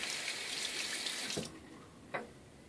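Tap water runs steadily while a safety razor is rinsed after a shave, a broad hiss that cuts off partway through, followed by a single brief splash or drip.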